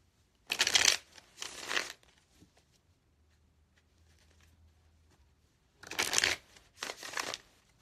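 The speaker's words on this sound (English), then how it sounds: "if these shuffles are loud" Two pairs of quick tarot card shuffles, close and crisp, separated by a few seconds of near silence with a low hum.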